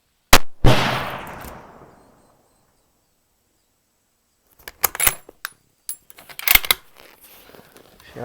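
A 7mm Remington Magnum rifle fires a 150-grain Core-Lokt round at a 300-yard target: one sharp, loud crack with a short ringing tail, a long silence, then scattered metallic clicks and rattles of handling.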